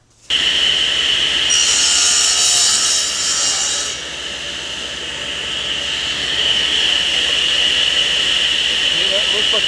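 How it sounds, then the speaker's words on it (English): A saw crosscuts a wood board at a 5-degree bevel for a step stool, a loud, steady close whine with a brief burst of extra hiss and rasp as the blade passes through, running alone without talk. "I'll make that first cut and verify that it goes all the way through, and it leaves me a nice 5-degree bevel here"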